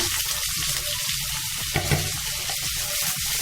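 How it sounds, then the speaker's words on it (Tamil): Okra sautéing in hot oil with asafoetida, a steady close frying sizzle with occasional stirring scrapes and light pops. "நல்லா பொரியிட்டு எண்ணெயில் வெண்டிக்காயை போட்டு வதக்கணும்"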